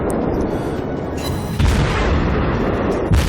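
Main guns of an Omaha-class US tier 5 cruiser firing in World of Warships, a loud continuous rumble punctuated by heavy booming salvos, two strong blasts landing close together near the middle and end.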